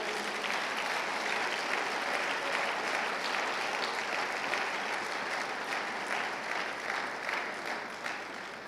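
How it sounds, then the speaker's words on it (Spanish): A church congregation gives steady, sustained applause honoring the word of the Lord, dense clapping from many hands that continues evenly for several seconds before tapering slightly. "Damos un fuerte aplauso a la palabra del Señor."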